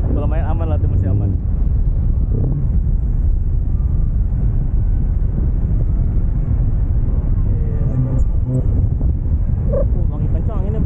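Strong wind buffets a microphone on a beach in Padang, a steady low roar running the whole time, with people chatting over it.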